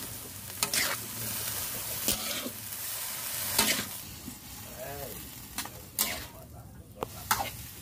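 Fish stir-fried in a pan with seasoning, a continuous sizzle broken by sharp spatula scrapes and stirring knocks at irregular intervals, with talking in the background.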